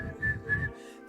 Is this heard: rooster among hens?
no